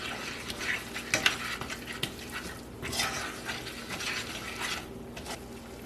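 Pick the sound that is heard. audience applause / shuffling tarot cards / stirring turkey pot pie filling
stirring turkey pot pie filling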